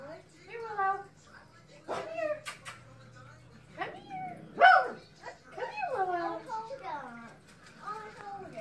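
A dog whines, yelps and barks at a pineapple, with high whimpering cries and short barks scattered between bursts of a person talking to it.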